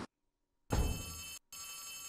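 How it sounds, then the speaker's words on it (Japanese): A telephone rings in the horror video game Poppy Playtime Chapter 3, with a short ring, a brief silence, then a longer electronic trill and another ring that starts after a gap, all clear and close with no talk. "電話の音？"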